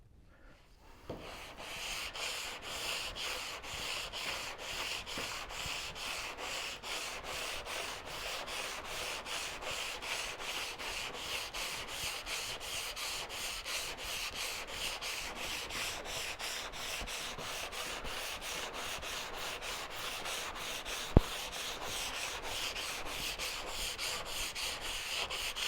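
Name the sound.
block sanding bare metal with rigid sanding block, 150-220 grit paper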